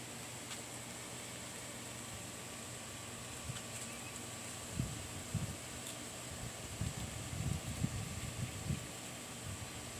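Light breeze blowing outdoors in a garden: a steady, faint airy hiss with a few soft low gusts buffeting the microphone partway through, and no talking.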